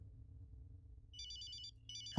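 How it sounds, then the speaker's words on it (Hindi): A quiet electronic phone ringtone chirps in two short repeating bursts over a low hum, ending with a sudden thump. "तुम्हारा फोन?"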